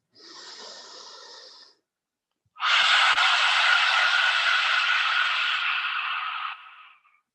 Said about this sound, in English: Exhale, stick the tongue out, look up